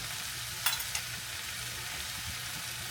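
Turkey wings being stirred in a pot for dirty rice, faint soft sizzling with a couple of light scrapes and clinks from the spoon near the start, otherwise a low steady bubbling hiss.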